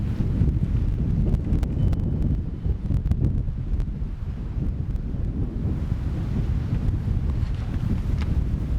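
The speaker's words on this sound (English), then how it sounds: "that wind is just really whipping around the rock" Strong wind whips around a rock outcrop at Wat Phu Tok, a cliffside mountain temple in Thailand, roaring as steady, close buffeting gusts against the microphone without a break.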